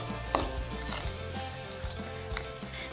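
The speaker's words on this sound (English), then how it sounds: "I'm just going to use a fork to mix it all up." Soft clinks and taps of a fork working through ground turkey meat in a bowl, close and fairly quiet, with a few sharper knocks over a steady low hum.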